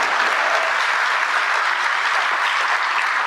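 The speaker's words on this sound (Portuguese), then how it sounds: "Uma salva de palmas para a nossa ministra Margarete Menezes." An audience gives a thick, continuous burst of applause for Brazilian minister Margarete Menezes, loud and even throughout, with no voices rising above the clapping.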